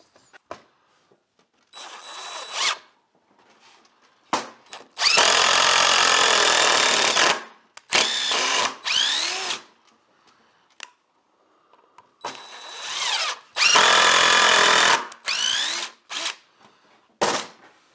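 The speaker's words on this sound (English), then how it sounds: "Let's run some screws in and see what it does." Repaired DeWalt 1/4-inch hex impact driver driving screws into wood, with several bursts of loud rapid hammering separated by quiet pauses and short trigger blips, close and without talk.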